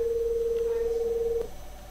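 A single steady electronic telephone ring tone holds for about a second and a half, then cuts off, leaving a low background hum.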